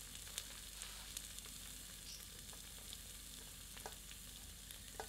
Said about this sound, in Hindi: इसे मध्यम आंच पर तब तक भूनते हैं जब तक कि प्याज थोड़ी सी पारदर्शी नहीं दिखने लगती